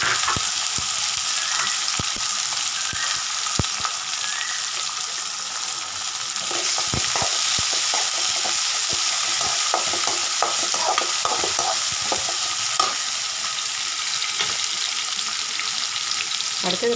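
Onion fries in a pan under a steady, close sizzle, with repeated scraping and clacking as it is stirred throughout.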